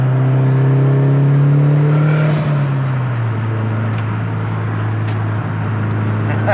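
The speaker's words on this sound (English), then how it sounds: "The turbo sounds insane." A turbocharged Subaru STI with a stock block making 457 wheel horsepower accelerates hard through the gears. Its loud engine drone climbs in pitch, drops at a shift, and keeps pulling steadily without any talk.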